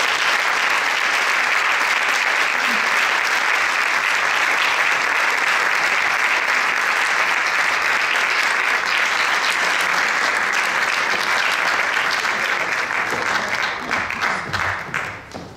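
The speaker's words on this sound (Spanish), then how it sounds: "Un aplauso." Audience applause fills an awards gala hall, loud and sustained for about fifteen seconds before tapering off at the end.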